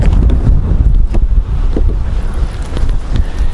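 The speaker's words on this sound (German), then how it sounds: "im Norden weht immer eine leichte Brise" A light breeze buffets the microphone outdoors beside a camper van in the north, a steady, loud, rumbling gust noise that swells and eases throughout without any talk.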